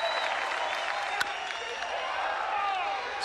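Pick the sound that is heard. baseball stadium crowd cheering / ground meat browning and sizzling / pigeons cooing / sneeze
baseball stadium crowd cheering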